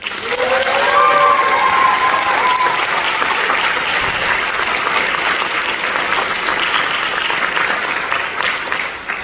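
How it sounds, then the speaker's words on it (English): A crowd at a school parent preview event applauds the boosters, loud sustained clapping with a few whistles and cheers near the start, slowly thinning toward the end. "can we get another round of applause for the boosters?"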